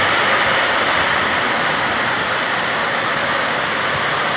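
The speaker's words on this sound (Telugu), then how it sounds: "ఫుల్ వర్షం వస్తుంది." Heavy rain pours down on a farm field with tomato plants, a dense, steady roaring hiss that stays loud and even throughout, with no voices.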